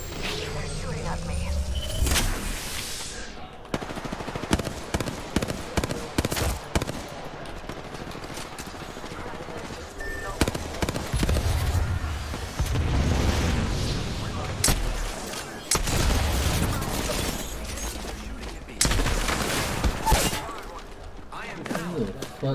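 Rapid bursts of video game gunfire crackle through a first-person shooter match with recharging shields, sharp repeated shots and thuds coming in clusters at close range, with a player talking over much of it.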